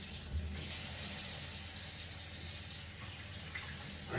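Tap water runs steadily over hands being washed in a kitchen before baking a sponge cake, a close, continuous gushing hiss lasting about four seconds with no talking.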